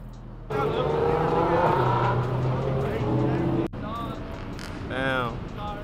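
A car pulls up at a crowded car meet, its engine droning steadily and shifting pitch nearby. The engine cuts off abruptly partway through, and voices sound around it.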